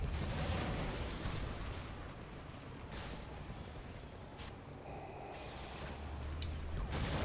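Enemy blaster fire and booming impacts in Star Wars: The Force Unleashed, a faint, continuous barrage of shots and rumbling blasts with no voices over it.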